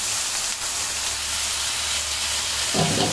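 Washed beef pieces with bone and fat hitting a hot pan with onion, garlic and ginger, a steady loud sizzle and hiss throughout, close up, with no talking.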